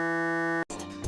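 A buzzy, harmonically rich synth note using a vocal sample as its wave shape holds steadily, cuts off abruptly, then gives way to a brighter, shifting tone.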